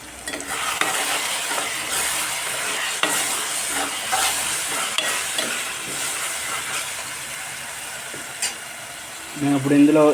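Tamarind pulp is poured into a simmering Godavari-style fish curry in a pan. A loud, steady sizzle and bubbling fill the clip, with a heavier gurgling splash near the end.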